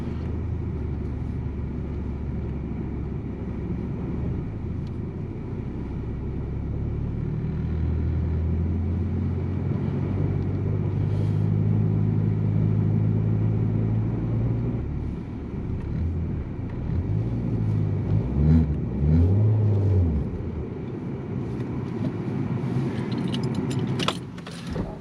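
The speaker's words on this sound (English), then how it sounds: "we're gonna see how far we can make it before the Jetta gets stuck" A big-turbo Volkswagen Jetta pushing through deep snow during a winter storm, with a steady interior engine rumble that rises and wavers as revs climb and the car struggles for grip, plus faint rattles near the end.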